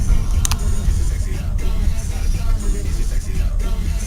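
A taxi drives along a road, heard from inside as a steady low engine and tyre rumble with faint cabin noise and almost no talking.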